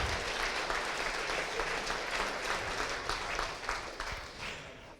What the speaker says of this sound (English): Big round of applause again for Fool's Code